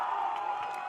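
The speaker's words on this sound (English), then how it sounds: "The crowd getting into it here" A crowd at a high school football game cheers steadily in the background, a brief, fairly faint wash of voices with a few whoops rising out of it.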